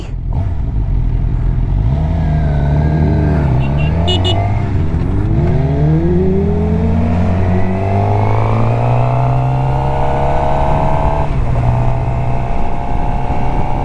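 A motorcycle engine runs steadily and loud and close, its pitch sweeping up and down through several revs across the whole stretch, with no talk over it.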